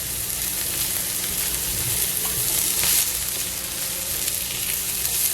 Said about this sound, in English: now the peppers and the onions have cooked for a good 3-4 minutes